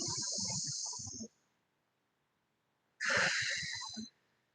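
Two long, deep breaths during a gentle yoga class, each a steady breathy rush lasting about a second with a low voiced edge, separated by a brief silence and heard up close without talk.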